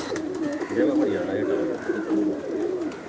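Flying pigeons of a champion high-flying breed coo close by in soft, rolling, repeated calls that continue throughout, with no speech.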